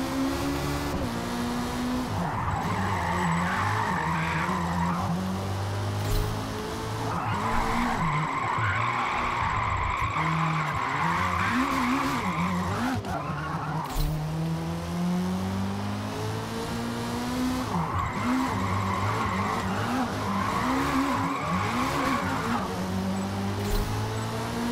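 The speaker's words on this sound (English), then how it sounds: "that would definitely help your car drift completely" Car drifting in Forza Motorsport, with long, wavering tyre squeals rising and falling over a steady engine drone, sustained and loud with no talking.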